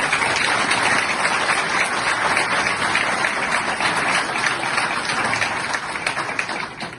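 Steady, dense applause from a large crowd, sustained clapping throughout, slightly thinning toward the end.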